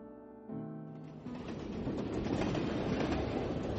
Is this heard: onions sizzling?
no